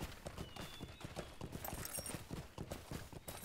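Hooves of a white horse clip-clop steadily in a fantasy role-playing video game, a rapid, even trotting rhythm that runs the whole time at moderate level with no talk over it.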